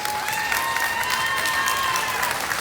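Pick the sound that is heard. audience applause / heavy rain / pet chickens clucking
audience applause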